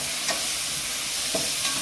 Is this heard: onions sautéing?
yes